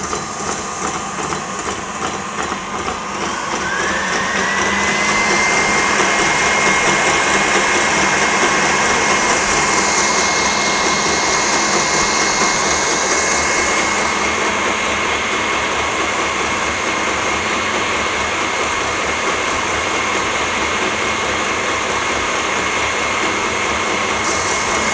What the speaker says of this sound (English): I am just going to start beating this on medium high speed until we have the meringue ready